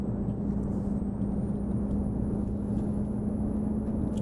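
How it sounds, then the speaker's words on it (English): MAN TGA truck engine from a trucking video game, a steady low drone with a constant hum running evenly throughout, alone with no voices. "If you're asking about this truck, it's the MAN TGA"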